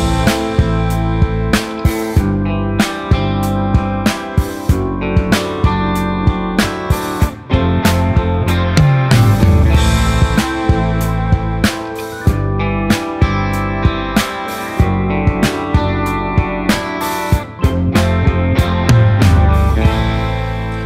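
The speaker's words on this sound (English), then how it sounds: "BFD Player is a free drum plugin which comes with an amazing 5 gigabytes of samples" Sampled acoustic drum kit from the free BFD Player drum plugin plays a steady, punchy groove with regular kick and snare hits and bright cymbal wash, loud and continuous throughout, with no talking.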